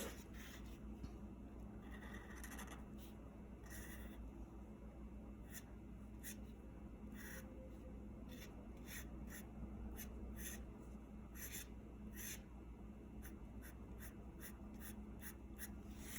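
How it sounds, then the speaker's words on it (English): Pencil sketching a pear on paper, part of a cornucopia drawing with grapes and a vine, heard as soft steady scratching strokes with short pauses, close and quiet, over a low constant background hum. "Now let me draw the pear."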